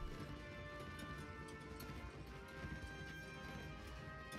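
Horse hooves clip-clopping at a steady rapid rhythm in Mount&Blade Warband, faint and fairly distant beneath a dense bed of battlefield noise, with no talking.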